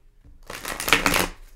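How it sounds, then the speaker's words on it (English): A deck of tarot cards is shuffled once up close, a soft riffling burst lasting about a second that swells and fades, with no talking. "Half of this channel is just watching me shuffle cards terribly."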